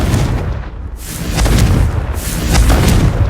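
Fire-curse spell blasts in the Hogwarts Legacy wizard duel game, a string of loud booming explosions with crackling bursts, dense and close, over a continuous roar of combat with no talk.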